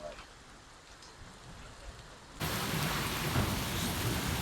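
Heavy rain in Kasur, starting softer and then bursting into a loud, dense downpour that hisses steadily, with thunder rumbling in the storm.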